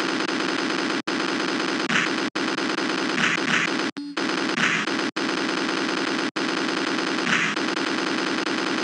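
Rapid, continuous gunfire from a grenade launcher aimed at crabs in the classic Macintosh game Crab Attack, loud and steady throughout with brief dropouts and a few sharper bursts layered on top.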